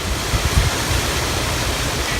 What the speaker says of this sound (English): As you can see, the winds have picked up, the rain's cut down.